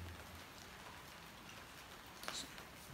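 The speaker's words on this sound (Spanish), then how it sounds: "deciros que ha empezado a llover" Light rain begins falling outdoors at an abandoned preventorium building in Busot, making a faint, steady patter with a brief sharper tap near the end.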